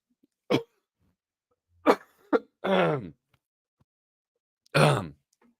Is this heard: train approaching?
no